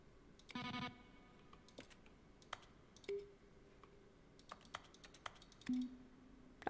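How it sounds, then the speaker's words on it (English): Button presses in the video game The Stanley Parable Ultra Deluxe, each a keyboard click blended with a short synthesized tone; sharp clicks are scattered among a few longer humming tones, with no talk. "each sound is a mix of a keyboard stroke and a synthesized tone"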